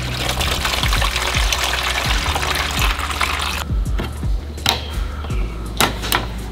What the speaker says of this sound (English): I might pour some more water out first.